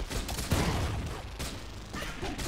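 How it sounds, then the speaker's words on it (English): Grenades fire at close range in the Nuclear Throne roguelike video game, a dense, loud burst of overlapping blasts and explosions that rolls on for a couple of seconds with no speech. "Just fire the grenades very close range."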